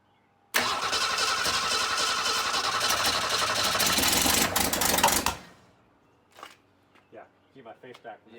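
An abandoned Ford Falcon's carbureted engine, unrun for 25 years, cranks and runs loudly for about five seconds before cutting out, followed by scattered voices talking nearby.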